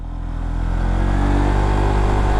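A Honda ADV 150 scooter fitted with a Rotex clutch lining revs hard and steadily, its loud, close engine holding a sustained drone with no pause and no talk.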